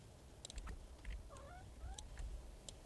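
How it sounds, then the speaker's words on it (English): A pet cat named Bagel meows faintly, two or three short rising calls spaced apart against a quiet indoor background with occasional small clicks. "My cat's meowing at me."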